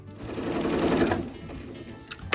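A sewing machine stitches a scrappy lap quilt, a close, steady motor hum with rapid needle rattle that runs for about a second and a half, then slows and stops with a couple of clicks.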